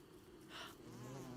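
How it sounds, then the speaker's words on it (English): A buzzing drone of bees in a video game rises and hovers close by, steady and insistent against a low background hum. "there are bees here"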